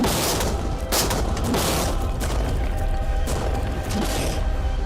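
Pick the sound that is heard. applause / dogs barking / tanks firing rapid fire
tanks firing rapid fire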